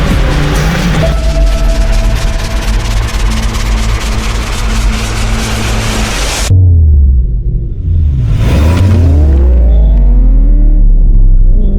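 A Mercedes-Benz SLK 55 AMG V8 with cylinder deactivation drag-races a Hyundai i20. A loud, steady engine roar builds, then a car sweeps past close by with a rising and falling pitch and a deep drone that keeps going.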